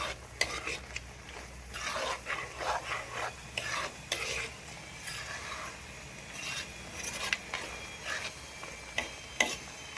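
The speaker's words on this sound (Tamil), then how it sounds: "இப்போ இதை நல்லா கிளறி விட்டுக்கலாம்" A spoon scrapes and stirs thick carrot halwa with raisins in a pan, giving a run of rasping, rubbing strokes with faint sizzling behind them and no talking.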